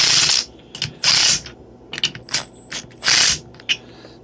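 A ratchet wrench clicks in short bursts as intake manifold bolts on a Chevy Cobalt SS are tightened, loud close rasping pulls separated by brief pauses and small metallic knocks.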